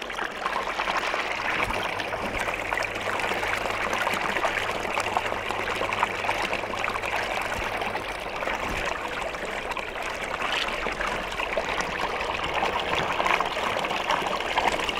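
Water running steadily from a magnetic water pump, a continuous close trickling and splashing flow with no pauses, a low hum beneath it for the first half.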